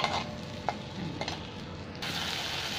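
A spice paste with tomato purée fries in oil for a bata fish curry, giving a steady close sizzle with a few light stirring clicks, then turning louder and denser.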